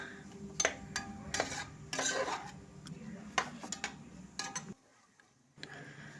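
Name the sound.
stirring rice with turmeric, salt and biryani masala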